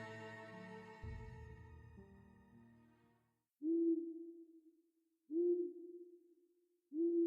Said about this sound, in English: She's an owl or something.